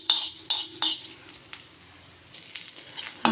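Whole spices such as cumin, pepper, cloves and cinnamon dry-roast on a flat tawa, with a few sharp metal scrapes and clinks of stirring over a faint sizzle, close and quiet.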